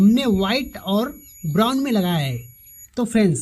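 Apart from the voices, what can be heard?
multimeter continuity beep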